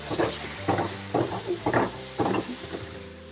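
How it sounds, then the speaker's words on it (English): A pan of mushrooms and onions sizzling steadily as white wine deglazes it, with bursts of stirring and scraping at regular intervals, close and moderately loud. "we're going to deglaze with a little bit of white wine"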